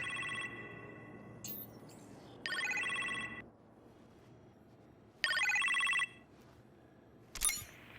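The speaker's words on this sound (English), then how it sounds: "You appear to have a phone call in the kitchen, sir." A phone rings in the Iron Man VR video game, with bright electronic trills that come in repeated bursts separated by short pauses, clear and close.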